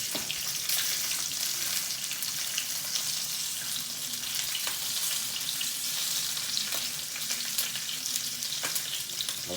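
A seasoned shank, rubbed with salt and pepper, sears in hot oil with a steady, close sizzle and crackle that holds for the whole stretch, with small pops scattered throughout and no talking.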